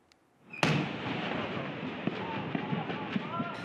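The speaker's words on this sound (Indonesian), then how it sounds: "insiden ledakan gudang amunisi milik Kodam Jaya di Kabupaten Bogor, Jawa Barat membuat geger warga" An ammunition depot belonging to an Indonesian army command in Bogor, West Java, explodes with a sudden deafening blast. A dense roaring rumble follows, peppered with crackling secondary pops from cooking-off rounds.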